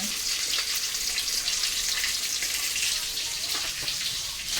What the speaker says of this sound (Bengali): মাছ ভাজছে ওদিকে